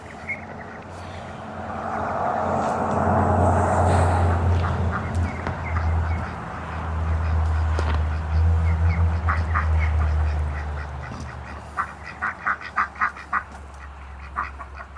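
Ducklings on a farm quack and peep in a busy, overlapping chorus over steady low background rumble, with a run of short, sharp calls near the end.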